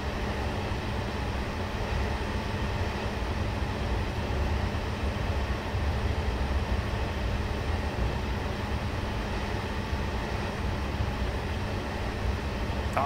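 A train rolls along in the video game Train Simulator 2022, a continuous low rumble of wheels and wagons that stays steady and moderately loud with no talk over it.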